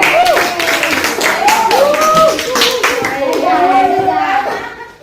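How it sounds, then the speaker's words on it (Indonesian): Seventh-grade students clap in a classroom lesson on Abu Bakar, a burst of applause from a group of hands lasting several seconds, with children's voices chattering over it. "Ya, tepuk tangan."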